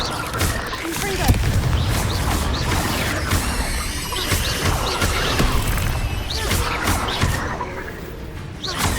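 Blasting spell explosions and combat effects in Hogwarts Legacy: dense crashes, thuds and whooshing bursts over a busy game soundscape, loud and continuous, with a voice talking over the action.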